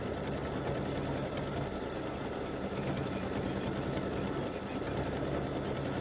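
An embroidery machine stitches an open fill onto a worn light gray shirt, a steady fast mechanical whirr with rapid needle clatter running unbroken and close throughout.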